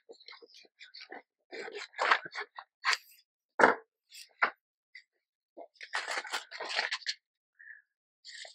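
Scissors snipping paper for an envelope junk journal, many quick close cuts in bursts with short pauses, crisp and dry in a quiet room.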